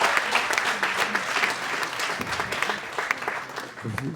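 Audience applause at a morning health event in Anglet, dense steady clapping from a crowd filling the room throughout, with murmured voices mixed underneath.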